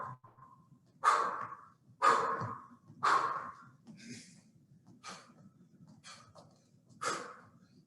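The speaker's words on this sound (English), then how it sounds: "Deep breathing here, deep breathing." Deep, forceful breaths during a cardio kickboxing workout, about seven heavy exhalations in a steady roughly one-per-second rhythm, close and fairly loud.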